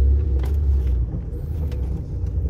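A car engine pulling in second gear gives a loud, steady low rumble that stays close and continuous throughout, with a few faint rattles on top and no talk.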